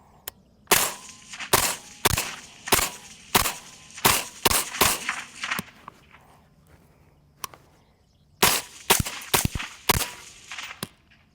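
Sharp, loud rifle shots at an outdoor range, an uneven string of single cracks and quick pairs with a pause mid-way before a final burst, no talk between shots.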